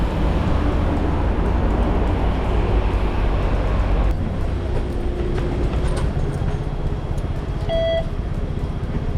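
Loud rumbling of a Hong Kong tram in motion, heavy low drone that eases midway, followed by a couple of short electronic beeps near the end.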